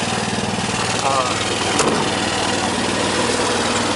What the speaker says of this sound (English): See the generator running? And that's quiet, folks, for a gasoline generator, believe me.